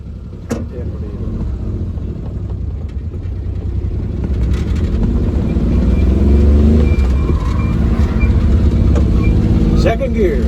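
A rescued mini truck's engine pulls steadily in second gear at about ten miles an hour, a close, continuous low rumble that swells louder midway, with voices talking over it.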